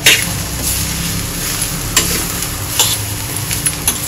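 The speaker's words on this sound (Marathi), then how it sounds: "आणि आपण छान परतून घेऊया." Jackfruit bhaji, a traditional Konkani dish, is stirred in a hot pan without added water, making a steady close sizzle with soft spatula scrapes and stirs throughout, and no talking.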